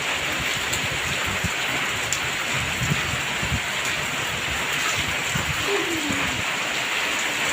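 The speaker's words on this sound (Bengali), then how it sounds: "ঢাকা শহরে অনেক শান্তির বৃষ্টি হচ্ছে।" Steady night rain falling over Dhaka city, a dense even hiss of drops on surfaces with occasional louder patters, continuous and fairly close, no talking.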